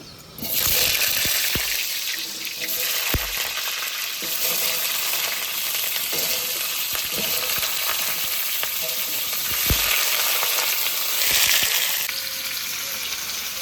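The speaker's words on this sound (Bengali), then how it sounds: "এবার আমি আলুটা ভেজে নেবো।" Potatoes frying in hot oil, a loud continuous close-up sizzle that holds steady throughout with a few soft knocks and clatters from the pan, no talking.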